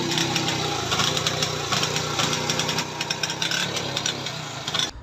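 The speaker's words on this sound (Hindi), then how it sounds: "बाइक मिसिंग इतनी ज़्यादा कर रहा है" A motorcycle engine with a misfiring fault runs loud and close for the whole stretch, a rough, uneven mechanical drone with no one talking.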